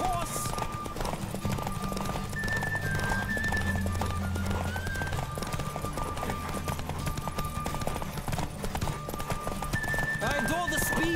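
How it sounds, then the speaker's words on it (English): A horse gallops in The Witcher 3, its hoofbeats a fast, steady clip-clop rolling on without pause for several seconds, with other game sounds layered underneath. "Don't spare the horse!"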